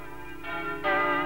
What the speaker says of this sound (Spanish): Quería que la campana repicase en honor de su abuelo